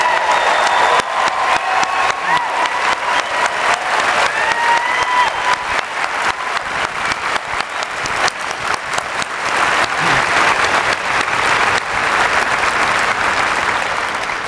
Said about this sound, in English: A round of applause for the graduates, class of 2014.